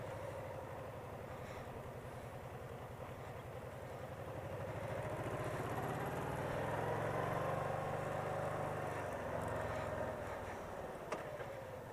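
A Honda Pacific Coast PC800 motorcycle engine runs steadily in a parking lot, close and moderately loud. Its low hum swells briefly midway as if revved lightly, then settles back to an even idle.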